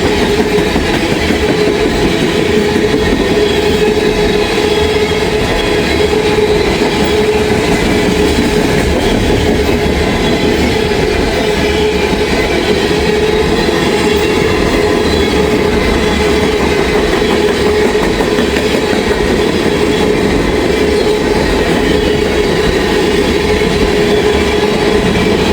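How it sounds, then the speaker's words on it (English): An empty ethanol freight train rolls past continuously and loudly, its steady rumble and clacking wheels filling the whole stretch with no break. "An empty ethanol train here."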